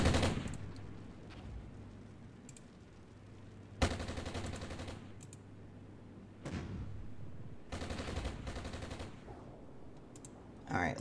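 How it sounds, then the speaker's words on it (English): Gunfire from combat units in the wargame Armored Brigade, several broadband bursts of automatic fire and shots at moderate distance, separated by quieter stretches with a low steady hum and faint clicks. "they'll just automatically shoot at that location"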